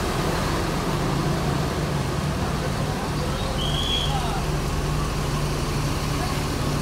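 Cars, a private car and an Epa Star tour bus idle and creep in a congested traffic jam, a constant dense rumble of engines and road noise close by, with faint voices in the background.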